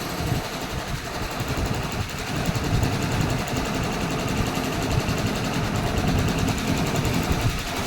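An Usha 450 sewing machine running steadily, a continuous close mechanical whir with a faint rhythmic clatter throughout, no voices.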